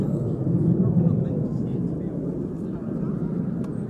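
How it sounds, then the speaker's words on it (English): A Boeing 757 airliner passing near an airport runway at East Midlands in poor weather, a steady low engine roar throughout with someone talking over it. "But the 757 not too far away from us now. This one just passing"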